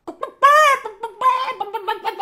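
A voice imitates a rooster, giving a loud strained crow followed by a run of clucking, choppy calls, close and alone with no other talk.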